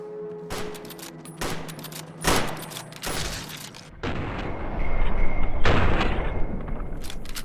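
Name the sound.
gunfire in video game Fallout New Vegas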